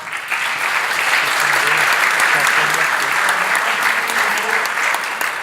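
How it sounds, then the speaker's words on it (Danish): Conference audience at Future Greenland 2015 applauds a speaker, a loud, dense, sustained clapping from a large crowd with a few voices underneath. "Giv lige Christian Lennart en hånd"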